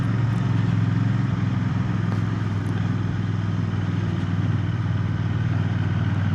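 A 2025 Royal Enfield Bear 650 twin-cylinder motorcycle runs steadily in second gear, its engine a constant, even drone with a low throbbing hum, close and loud throughout with no talking.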